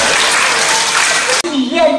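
Loud applause welcomes a children's theatre troupe, dense clapping for about a second and a half that cuts off abruptly, followed by a brief spoken voice.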